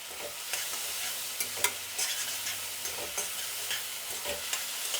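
Puffed rice with turmeric and salt fries in a pan with a continuous close sizzle, broken by repeated scraping stirs and light crackles at an uneven rhythm, with no talking.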